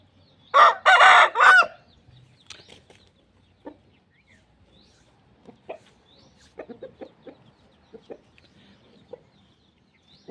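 A rooster crows loudly once near the start, followed by scattered soft clucks from chickens in an otherwise quiet space.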